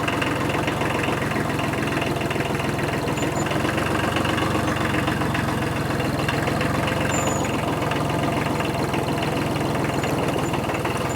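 A tractor engine runs steadily nearby while moving blocks, a continuous low mechanical drone with a rough, knocking texture that holds level throughout with no voices.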